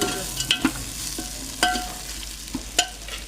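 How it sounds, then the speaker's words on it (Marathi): Rice and green peas are sautéed in oil with a steady soft sizzle, punctuated by several sharp clinks and scrapes of a spoon against the pot, and no voices. "असं परतू द्यायचं. परतून घेऊ द्यायचं म्हणजे त्याचं तेल त्याला चिटकते ना"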